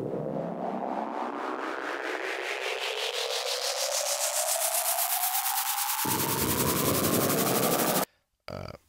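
Synthesizer sweep made in Native Instruments Massive: a loud, continuous noisy tone rising steadily in pitch for about eight seconds. A low layer drops out partway through, and the sound ends with a brief cut before a short final burst.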